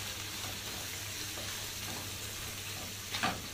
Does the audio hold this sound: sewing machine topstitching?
no